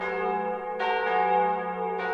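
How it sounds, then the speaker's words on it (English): Church bells in Prague toll for Mozart, resonant and sustained, with a fresh strike about every second over a long humming ring that never dies away. "Prague bells tolled for half an hour."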